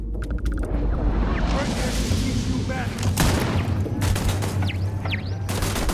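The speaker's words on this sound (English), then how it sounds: "I am being super shot up." Turrets fire on the player in the space game Starfield, bursts of rapid gunshots and booms crackling through the mix while a voice talks over the combat.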